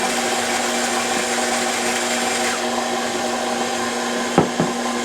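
An electric mixer whirs steadily while mixing ricotta cookie dough, a constant motor hum with a couple of brief knocks near the end.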